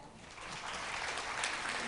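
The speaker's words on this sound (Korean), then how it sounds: "오늘 경험을 공유해 주신 세 분의 보안 전문가와 갑자기 튀어나오신 오진석 이사님께 큰 박수 부탁드립니다" Audience at a cybersecurity conference panel discussion in Seoul claps for the speakers, a brief swell of many hands applauding at moderate distance that builds over two seconds.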